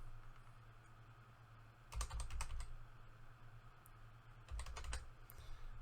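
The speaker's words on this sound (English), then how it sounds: "I'm just going to type in the verification codes." Computer keyboard keys tapped in two short bursts of quick typing, entering verification codes during a Bitcoin purchase with Coinbase Wallet, close and fairly quiet over a low steady hum, with no talking.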